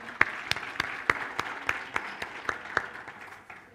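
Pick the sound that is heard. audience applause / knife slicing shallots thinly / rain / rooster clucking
audience applause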